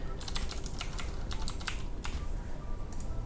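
Rapid clicking of a computer keyboard as a VPN account number, a string of digits, is typed in, steady close-up keystrokes in bursts with no talk.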